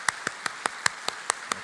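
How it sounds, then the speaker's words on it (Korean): A church congregation claps in unison: eight sharp, evenly spaced claps in a quick, steady rhythm, close and clear against a quiet room. "하나님께 우리 영광에 올려드리는 박수를 한번 하겠습니다."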